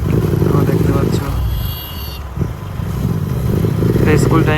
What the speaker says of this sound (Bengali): আমি এখন চালাচ্ছি বাইক,